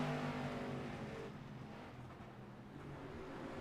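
Street stock race cars at a USA International track run past with a steady, loud engine roar that eases slightly after the first second, with no talk.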